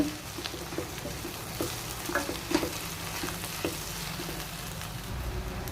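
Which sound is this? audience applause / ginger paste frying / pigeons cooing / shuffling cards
ginger paste frying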